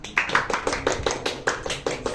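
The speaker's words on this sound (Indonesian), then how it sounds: "Beri tepuk tangan dulu untuk narasumber kami kali ini." A small audience claps for guests at a school talk show, sparse, fairly quick hand claps in a loose rhythm with a light tapping quality, heard close.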